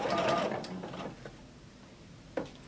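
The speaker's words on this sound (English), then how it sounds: "you want to make sure that you're sewing through all thickness, because that's the purpose, is to get that waistband sealed down on the inside" A sewing machine stitches a print skirt's waistband through all fabric thicknesses, a short mechanical whirring run that fades out, then a single click; no talking.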